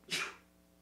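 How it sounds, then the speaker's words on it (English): A single quick sneeze from a man playing Minecraft, a short sharp burst close to the microphone, then near silence. "That was a sneeze"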